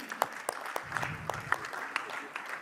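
Light applause from a conference audience welcoming a speaker on stage, heard as scattered individual claps at a fairly sparse rhythm rather than a full, dense ovation.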